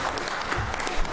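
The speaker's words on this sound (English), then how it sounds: "if you don't mind giving a round of applause for Mr. Justin Speck" A brief burst of applause rises from people at a Georgia joint appropriations committee hearing, a short, moderately loud patter of clapping.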